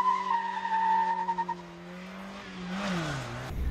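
Rubens Barrichello drives a car around the Top Gear track: a steady, tonal engine note holds, then tyres squeal and skid as the car turns. It is heard at moderate distance with no talking.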